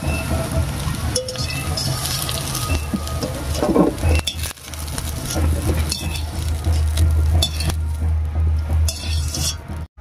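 A metal spatula clinks and scrapes in a wok as fried drumsticks and potato pieces are lifted out, with oil sizzling faintly and a low steady hum underneath throughout.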